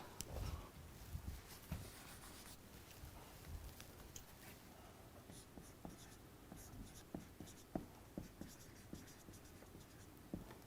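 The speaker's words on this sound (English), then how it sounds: "Let me just write." A pen scratching out topic ideas by hand on paper, quiet close strokes in short irregular bursts with small taps, no speech.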